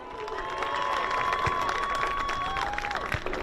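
Crowd applause and cheering at a high school girls' varsity soccer game honoring the seniors and their families, broad outdoor clapping with whistles and shouts, steady and moderately distant.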